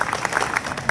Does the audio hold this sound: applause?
yes